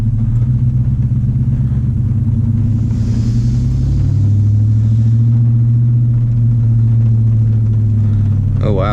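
A car running the OZ Tuning Omega tune accelerates and holds first gear, a loud steady low engine drone rising slightly in pitch, close and continuous through the cabin, with wet road hiss.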